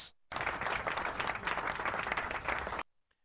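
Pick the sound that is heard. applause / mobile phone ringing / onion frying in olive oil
applause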